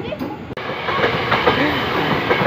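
A train rolls past close by on a railway line in Indonesia, a loud continuous rush of wheels on rails with rhythmic clatter, starting abruptly and holding steady.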